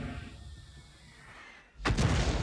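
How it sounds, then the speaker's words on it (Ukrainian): An artillery shell strikes nearby in the World of Tanks video game, a sudden loud boom bursting in after a brief near-quiet lull. "Звичайно, арта сюди б'є"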